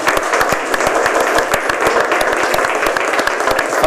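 Studio audience applause on a TV show, loud dense continuous clapping that holds evenly from start to end with no talking.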